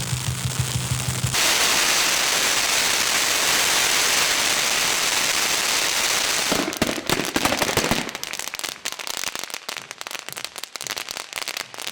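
A dense barrage of firecrackers pops and crackles without pause at a Chinese New Year celebration, loud and close, turning into sharper, scattered bangs toward the end.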